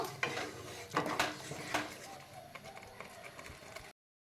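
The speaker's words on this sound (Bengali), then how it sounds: "এবারে আমি এই মশলাটা জাস্ট একটুখানি কষিয়ে নেব।" Spice paste for an eggplant curry being sautéed and stirred in a pan, giving repeated scraping clinks of a utensil against the pan over a faint sizzle. A voice speaks briefly.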